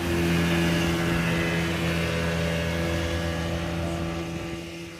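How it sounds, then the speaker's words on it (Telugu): A speedboat engine drones steadily and loudly nearby, its motor hum holding constant before easing off slightly toward the end. "అదిగోండి స్పీడ్ బోటు"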